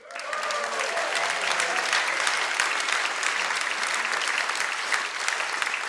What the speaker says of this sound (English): That's very, very well-deserved applause, believe me.